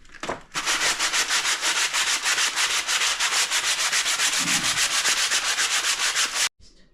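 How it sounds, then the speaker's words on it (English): Steady, loud sanding rubs in a fast back-and-forth rhythm across filled imperfections on a painted bedroom wall, continuing for several seconds before stopping abruptly near the end. "I'm going to sand down now where I can see a lot of imperfections"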